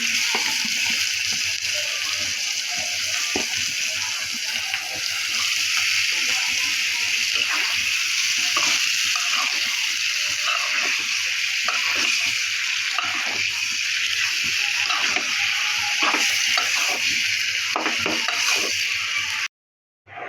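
Liver cooks with spices in a pan, giving a loud, steady bubbling hiss close up that runs without a break almost to the end before cutting off abruptly.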